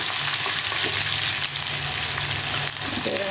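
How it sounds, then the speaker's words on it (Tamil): Ginger, garlic and green chili sizzle steadily in hot oil in a pan, a loud, continuous frying hiss with faint stirring scrapes and no voices. "இஞ்சி பூண்டு பச்சை மிளகாய் போட்டுக்கலாம்,"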